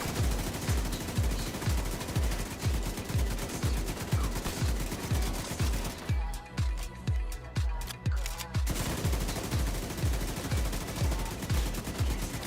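Light machine gun fire in The Division 2, a long steady stream of rapid rounds at an even rhythm, loud and close, with a short pause in the middle before firing resumes.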